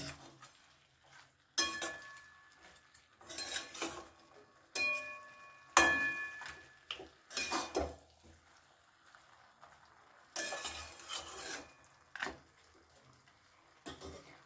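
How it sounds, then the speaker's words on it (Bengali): Fried fish heads being stirred into cabbage in a pan, with intermittent bursts of scraping and clinking from the utensil against the cookware, separated by short quiet gaps. "ভেজে রাখা মাছের মাথাগুলো মিশিয়ে নিচ্ছি ভালো করে"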